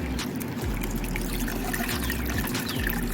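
Water trickles and splashes steadily out of an aquarium outlet, a continuous close flowing sound with no voices.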